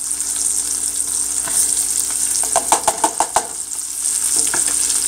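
Onion goes into a pot with ham for a corned beef and ham breakfast hash, giving a steady frying hiss with a burst of close clattering stirs in the middle. No voices are heard.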